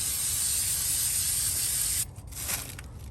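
A steady, close aerosol spray of cleaner onto the throttle body of a Gen 5 Camaro SS hisses continuously for about two seconds, then cuts off, leaving quieter sputtering.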